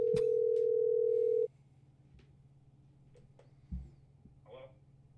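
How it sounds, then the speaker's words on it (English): A steady phone dial tone sounds for over a second, then cuts off, leaving faint clicks, a low hum and brief distant sounds. "We're gonna try calling him."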